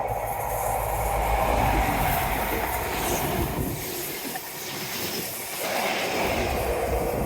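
A train rumbles steadily past on the seawall railway, a loud, continuous roar of wheels and engine close by that swells and eases slightly over several seconds.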